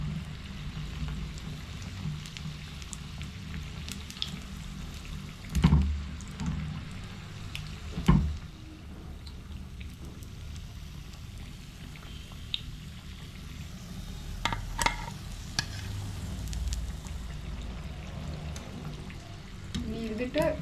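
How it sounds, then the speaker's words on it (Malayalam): Vegetable cutlets made with banana flower (vazhakoombu) sizzle steadily in a pan of hot oil, a soft continuous crackle with a few louder clatters of the turner against the pan, no talking. "ഇതുപോലെ നമുക്കെല്ലാം ഫ്രൈ ചെയ്തെടുക്കാം."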